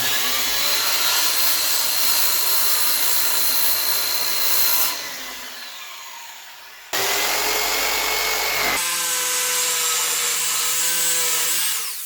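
Steady, continuous sawing through wood pieces for a porch bench swing with a metal frame, loud and close, running in long unbroken strokes with a brief pause and a change in pitch partway through.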